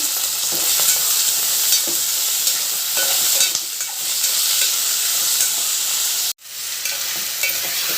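Ivy gourd (tondakaya) pieces frying in hot oil give a steady, loud sizzle with occasional stirring scrapes, near and continuous, with a brief sudden dropout near the end.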